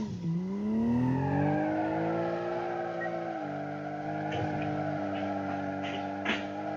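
A BeamNG video-game car with a boxer six engine revs and holds a steady drone while tires squeal through a skid, loud and continuous with no voices.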